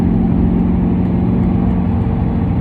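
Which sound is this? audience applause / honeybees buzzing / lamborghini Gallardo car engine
lamborghini Gallardo car engine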